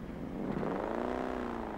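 A 1983 Gavril H series truck engine running with no exhaust in BeamNG.drive, droning loud and raw as it revs up smoothly over a couple of seconds.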